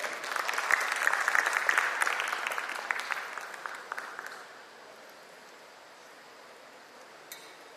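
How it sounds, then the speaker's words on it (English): Applause from an audience at an ESG conclave, a dense burst of clapping that swells, then thins out and fades to room quiet. "Please give a warm round of applause to Mr. Ashok"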